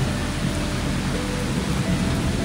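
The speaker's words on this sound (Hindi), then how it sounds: "ताबड़तोड़ बारिश हो रही है बाहर, ताबड़तोड़ बारिश।" Heavy rain pours steadily outside a balcony during rooftop car camping, making a dense, unbroken roar of hiss that stays loud and even throughout with no voices.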